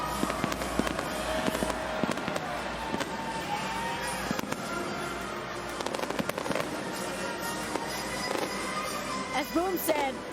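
Fireworks celebrating a football Hall of Fame ceremony crackle and pop continuously in a dense outdoor barrage, with sharp bursts and whistling streaks over a steady roar, loud and close.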